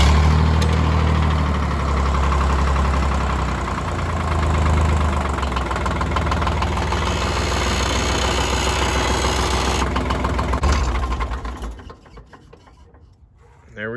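A 1985 Ford 1910 diesel tractor engine idles with a steady low knocking chug for about twelve seconds, then shuts down and goes quiet; nobody speaks.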